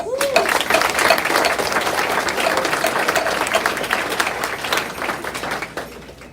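An audience at a school co-curricular awards banquet applauds the sailing team, a room full of clapping that holds steady for several seconds before tapering off, with some voices mixed in.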